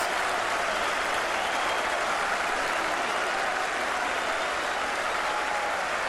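A cricket crowd at a 2005 Ashes Test applauds and cheers the fall of a wicket, a steady, dense wash of clapping from a large stadium audience that continues without a break.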